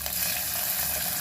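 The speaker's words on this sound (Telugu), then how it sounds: "ఉల్లిపాయలు వేగుతున్నాయి" Onions and green chillies frying in hot oil with mustard seeds, cumin and asafoetida, a dense, steady hiss and sizzle that stays loud and unbroken throughout.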